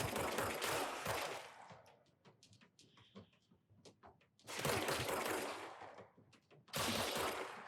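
Bursts of rapid gunfire from the video game Control crackle in three loud clusters, separated by quieter gaps filled with sparse sharp shots and small effects.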